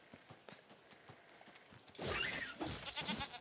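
Sheep in the video game NieR Replicant, with soft footsteps and light in-game sounds giving way to a loud, close bleating cry followed by a second shorter bleat.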